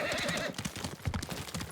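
A horse whinnies and then clip-clops at a gallop in the samurai video game Ghost of Tsushima, with a brief neigh followed by rapid close hoofbeats.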